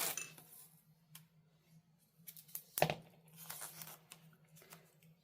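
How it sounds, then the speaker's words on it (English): Masking tape torn from a roll and pressed down to fix watercolor paper onto a table, heard as several short, quiet rips and crinkly dabs with one sharper tearing burst in a hushed room. "And I'm gonna tape this down also."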